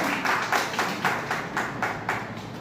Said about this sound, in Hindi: जोरदार ताली से स्वागत कीजिए सर